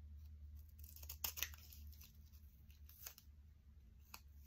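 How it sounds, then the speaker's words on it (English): Scissors snip and trim a strip of washi tape at close range, a few quiet crisp cuts with soft paper rustling over a low steady hum. "Then I'm going to finish trimming it because I didn't tape it all the way."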